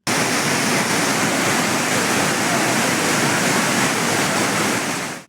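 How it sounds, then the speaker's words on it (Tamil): Courtallam waterfalls after heavy rain, with water gushing down in a loud, steady roar of broadband rushing noise that holds constant throughout before cutting off abruptly. "குற்றாலத்தில் உள்ள மெயின் அருவி, பழைய குற்றாலம், ஐந்தருவி உள்ளிட்ட அருவிகளில் தண்ணீர் ஆர்ப்பரித்து கொட்டுகிறது"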